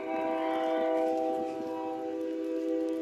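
A GP22 EQM diesel locomotive on the KCSM line sounds its horn in a loud, steady multi-tone blast that holds for about three seconds and eases slightly toward the end, with no talking.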